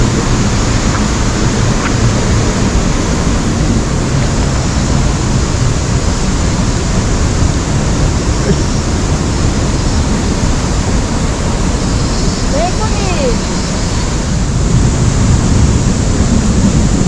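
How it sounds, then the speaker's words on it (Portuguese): A waterfall in Japan roars as a steady, dense wash of falling water, loud and unbroken throughout, with no other sounds standing out. "Essa cachoeira."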